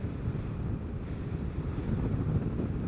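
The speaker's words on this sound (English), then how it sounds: "It's just gusty. Man, that is gusty." Gusty wind roars across the microphone while riding a Vespa GTS 300 Super Sport scooter on a spring day, a steady low buffeting that swells slightly toward the end, with no talking.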